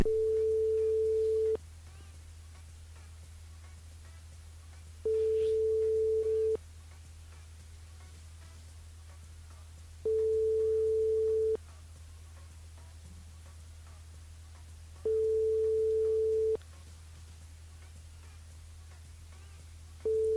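A telephone ringback tone repeats through a call that goes unanswered, giving a steady beep of about a second and a half every five seconds over a low hum and faint line static.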